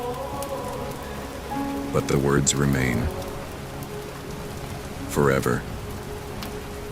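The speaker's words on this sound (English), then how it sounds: "as the rain falls gently on the ancient stones" Rain falls steadily on the ancient stones of a medieval scriptorium at midnight, a constant soft close hiss running beneath a calm voice speaking in two short phrases.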